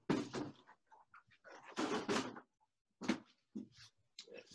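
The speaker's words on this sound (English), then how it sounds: "let me crack my door so somebody don't walk in here." A door being opened produces a series of sharp knocks, scrapes and rattles in irregular bursts, with brief quiet gaps between them.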